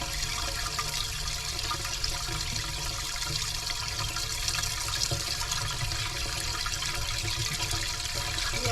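Water rushing steadily as a clogged commercial sewage ejector pump line is back-drained, a loud continuous gushing and hissing flow close by with no talk over it.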